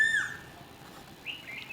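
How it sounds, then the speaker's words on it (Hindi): Small birds chirp faintly outdoors, with a few brief high calls at the start and again near the end over quiet background hiss, and no one talks. "पक्षियों की आवाज़ आ रही होगी आपको क्योंकि मैं ऊपर हूँ।"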